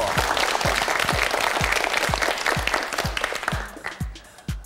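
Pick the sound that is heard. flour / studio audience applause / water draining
studio audience applause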